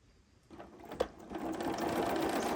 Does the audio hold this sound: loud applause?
no